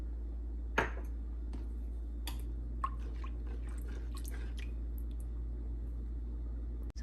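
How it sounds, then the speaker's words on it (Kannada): Milk with sabudana, bottle gourd and saffron boiling in a pot for kheer, a faint steady simmer with a few soft pops and bubble clicks over a low hum. "ನೋಡಿ, ಈಗ ಹಾಲು ಚೆನ್ನಾಗಿ ಕುದೀತಾ ಇದೆ."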